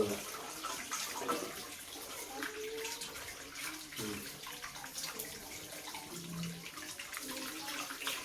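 Steady rushing water pours continuously, like a tap running full into a basin, with faint clatter in the background.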